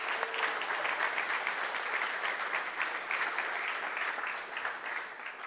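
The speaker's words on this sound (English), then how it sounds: "give them a round of applause" Audience applause at a ZBrush Summit 2014 gathering, dense steady clapping from a large crowd that carries evenly through the whole stretch without voices.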